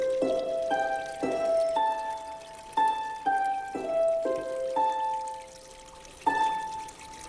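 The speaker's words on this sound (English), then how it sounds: "the water harp." Water harp, an instrument played with water from major waterways, rings out in a sequence of clear, sustained melodic tones, each note struck and left to decay, with occasional overlapping pitches and no voices.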